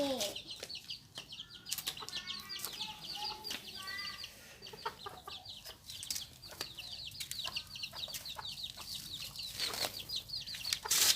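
Bantam chickens cluck and chatter steadily while wings flap in several busy bursts, close by, with rustling and scattered clicks throughout and no talk.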